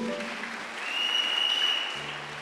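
Church congregation clapping to acclaim Jesus, a brief swell of applause with a high sustained tone above it, fading as a low hum enters near the end.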